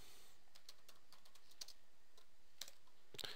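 Keys on a computer keyboard are pressed one at a time, a series of faint, sharp clicks at an uneven pace in a quiet room.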